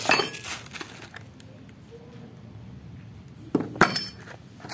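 Small metal spoons and cutlery clink together in a brief cluster at the start, then a second sharp rattle of clattering pieces after a quiet pause.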